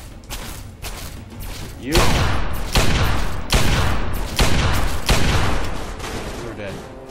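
Sustained gunfire in the Fallout 3 Broken Steel video game, with repeated loud bursts of shots and thuds aimed at the player during a Brotherhood of Steel versus Enclave battle, a voice briefly speaking over the shooting.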